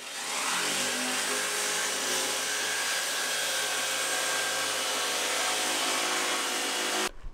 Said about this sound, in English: I'm going to cut this out with a jigsaw